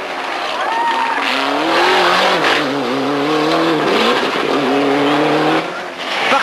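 A Ford Escort RS rally car from the Gazprom team drives hard on a 1999 Polish rally stage, its engine loud and close, revving and rising in pitch through gear changes, with a voice talking over it.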